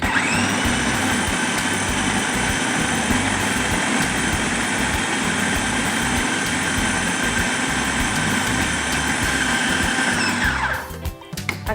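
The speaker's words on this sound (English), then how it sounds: "Okay, so we blend." A blender whirs loudly and steadily, blending ingredients for Ayamase rice into a coarse mixture. The motor runs for about ten seconds and then cuts off abruptly.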